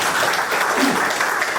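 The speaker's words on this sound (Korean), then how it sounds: "박수 한번 쳐주십시오" An audience at a meeting gives a short round of applause, even and continuous clapping at moderate volume.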